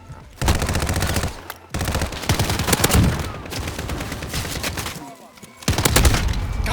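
Bursts of Uzi submachine gun fire ring out in a video game match on the Sawmill map, with rapid loud volleys separated by short pauses.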